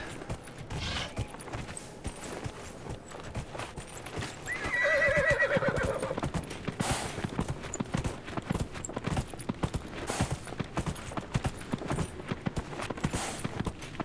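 A horse whinnies loudly midway while hooves clip-clop steadily on a hard surface, with occasional creaks around them.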